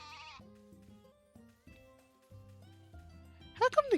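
Sheep bleat in the farming game Story of Seasons: A Wonderful Life, a sharp wavering cry near the end after soft game tones and a brief higher animal call at the start.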